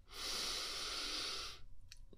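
A single long, deep inhale is drawn slowly through the nose, close and soft, and it holds steady for about a second and a half before stopping abruptly, leaving near-silence.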